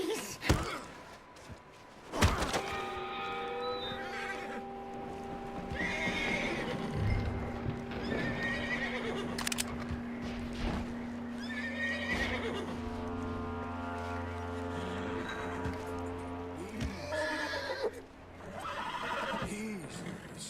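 In the Red Dead Redemption 2 video game, a horse whinnies loudly and its hooves clop and thud amid sustained musical tones and background game ambience, with voices talking at times.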